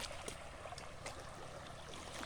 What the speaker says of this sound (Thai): นี่น้ำไหลครับ